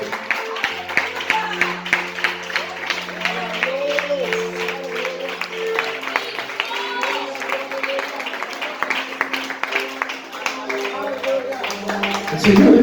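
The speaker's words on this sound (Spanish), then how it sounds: "Denle un aplauso al Señor" Church congregation applauds during a sermon, steady clapping spread across the room under a preacher's voice that keeps talking, with a low sustained musical tone beneath.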